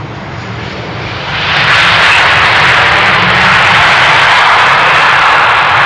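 Passenger airplane landing on runway 27 at Amsterdam Schiphol Airport, its engine roar swelling suddenly to a loud, steady broadband rush that holds for several seconds, heard alone without talk.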